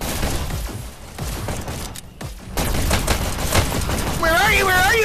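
Gunshots in a shooter video game, bursts of close, rapid firing with a short lull partway through, alongside other game effects and a voice talking over the action.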